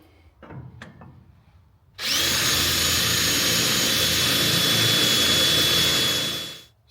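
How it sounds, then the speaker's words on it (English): A power drill bores through the steel frame of a 1967 GMC truck, a loud sustained whining grind with a steady high tone that cuts off abruptly, preceded by a few short clicks and handling knocks. "I'll come in with like an 1/8 inch drill bit and I'll drill a hole through that"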